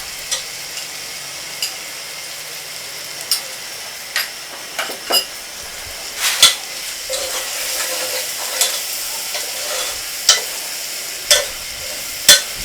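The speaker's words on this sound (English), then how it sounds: "So I'll allow it to fry properly." Fried rice with curry and seasoning sizzles in a pan, a steady close hiss broken by repeated sharp clinks and scrapes of stirring at irregular intervals, with no talking.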